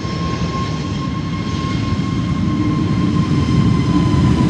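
A Cargolux cargo plane takes off from Schiphol's Polderbaan runway, its jet engines a loud, steady rumbling roar that swells slightly toward the end, with a thin tonal whine above it.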